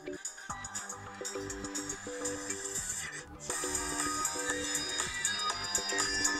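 Preview of a Xiaomi Redmi K30 Pro phone ringtone, a bright electronic melody with a punchy beat that pauses briefly midway, then returns louder and fuller.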